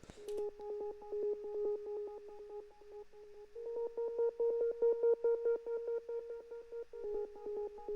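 A Surge lead synth on an ARP-style preset with full effects plays a rhythmic pulsing line of steady repeated notes, stepping up in pitch midway, loud and alone with no talking.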